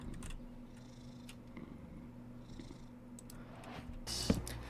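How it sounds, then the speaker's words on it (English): A pet cat in a Minecraft game gives a soft, low purr that runs quietly through the background, with a brief sharp click near the end. "Oh, we got a pet cat."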